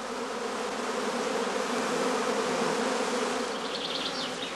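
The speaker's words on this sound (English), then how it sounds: "The bees are now restless and run back and forth in the beeways." Restless honey bees swarm inside a straw skep as young queens emerge, making a dense, steady buzz that fills the whole stretch without a break.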